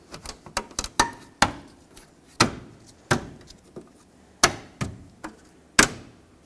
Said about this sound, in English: I'm just going to put in these top push clips here